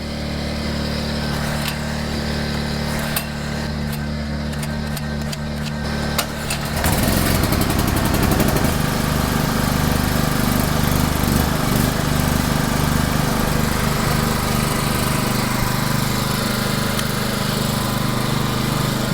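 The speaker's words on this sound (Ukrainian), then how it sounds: "давайте тепер для порівняння запустимо цей генератор, щоб ви просто послухали, е скільки як він голосно працює" An 850 W inverter generator runs steadily, a loud close engine drone that rises and thickens partway through and then holds at a constant rumble, with no talking.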